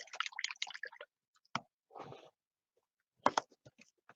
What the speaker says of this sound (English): rinse that stuff out of my brushes